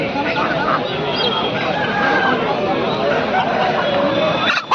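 Aseel chickens cluck and a rooster crows at a busy poultry market in Kundarapalli, Krishnagiri district, a dense din of fowl under steady crowd chatter and talk.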